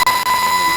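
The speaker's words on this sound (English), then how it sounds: "There seems to be an alarm or something going off in Magsy's house." An alarm sounds inside a house, a steady continuous electronic tone held loud and unbroken throughout, with voices over it.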